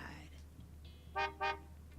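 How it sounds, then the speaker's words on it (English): Car horn in the video game Cupid Parasite, two short, clear honks in quick succession over a low steady hum. "the car honked in answer"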